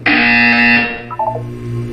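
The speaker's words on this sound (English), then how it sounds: "You will hear a buzzer." A buzzer sounds in the Portal 2 video game as one loud, harsh electronic tone lasting under a second, then drops to quieter lower tones.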